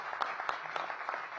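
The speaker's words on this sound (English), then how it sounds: "Give them a big round of applause here at the Atlas." Audience applause fills the Atlas Theater on H Street Northeast in Washington, DC at a mayoral event: steady, dense clapping with sharper individual claps standing out throughout.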